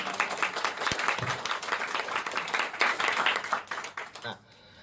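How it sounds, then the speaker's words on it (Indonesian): A seminar audience at a business leadership talk breaks into applause, a dense crackle of many hands that swells, then fades and stops near the end. "Tepuk tangan dulu deh."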